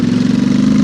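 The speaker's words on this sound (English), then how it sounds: "on overrun, get these lovely little burbly pops" Brief, close rumble of a Royal Enfield Interceptor 650 twin on a new exhaust, engine note steady and loud with a slight burbly texture on overrun.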